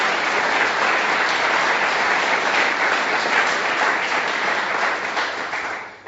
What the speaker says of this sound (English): we should give her a round of applause also